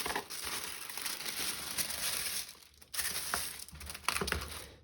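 Tissue paper crumpled and crinkled close up while a craft subscription box is unpacked, a steady rustling with brief pauses and sharper crackles near the end, no talking.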